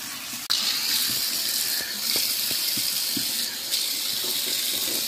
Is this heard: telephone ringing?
no